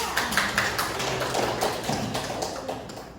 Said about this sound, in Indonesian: Beri aplaus pada Mbak Isa.